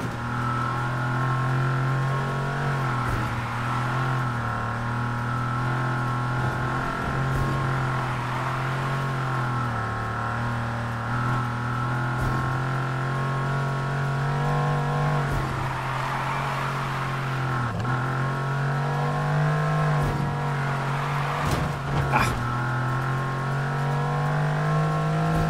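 Steady car engine drone from the racing game Need for Speed Heat, a continuous loud hum with shifting pitch as the engine revs and settles, running throughout with no talk over it.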